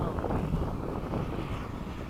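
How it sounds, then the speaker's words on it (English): Wind buffeting a microphone at an RC jet flying field in breezy conditions, a steady low rumbling roar that continues without a break. "Wind."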